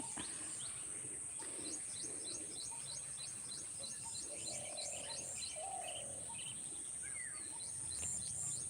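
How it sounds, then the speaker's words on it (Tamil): Several birds sing and chirp outdoors in the early morning, with repeated high trills and varied calls overlapping against a steady high insect-like hum. "காலையிலேயே பாருங்கள் பறவையெல்லாம் எழுந்து எவ்வளோ வினோதமாக ஒவ்வொரு பறவை ஒரு ஒரு சத்தம்"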